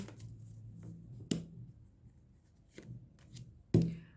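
Tarot cards get a final shuffle by hand, giving soft riffling rustles with a few sharp, close slaps of the deck against a surface in a quiet room.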